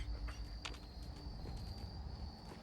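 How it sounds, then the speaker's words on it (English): A faint, continuous cricket trill hums across a quiet night setting in Fallout 4's Far Harbor, steady and distant with a few soft incidental clicks. "you can hear the crickets in the background"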